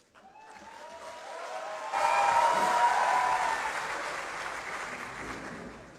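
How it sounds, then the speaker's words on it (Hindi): Applause from a poetry gathering audience in Gujranwala, Pakistan, starts softly, then swells abruptly into louder, fuller clapping that holds steady and slowly tapers. "मुझे कभी कलाम पे इतनी तालियां नहीं मिली जितनी कलाम से पहले मिल गई हैं"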